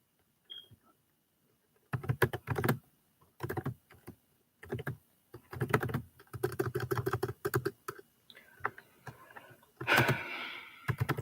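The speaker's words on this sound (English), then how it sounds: "I'm not used to using this particular computer. That's why I'm typing so slow." Computer keyboard keys clack in uneven bursts of quick taps with short pauses between, close and fairly quiet, typed slowly by someone unused to the machine.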